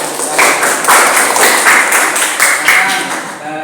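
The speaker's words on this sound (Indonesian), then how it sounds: "beri tepuk tangan untuk kelompok 4." A school class claps steadily for a student group for a few seconds, the applause fairly loud and close, with a teacher's voice partly audible over it.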